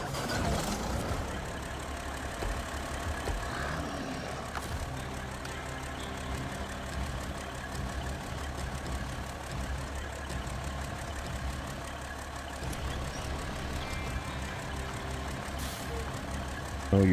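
A Kenworth truck engine in the SnowRunner video game rumbles steadily and continuously at close range, a low idling drone with faint mechanical clatter.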